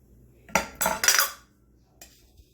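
Spoon scooping ground cocoa powder, three quick close metallic scrapes and clinks in a row followed by a fainter tap after a short pause, with no talking.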